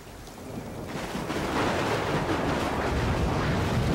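Heavy rain with rolling thunder in the video game Samurai Warriors 4, a steady broadband downpour that swells louder after the first second and holds as a dense, continuous roar with no voices.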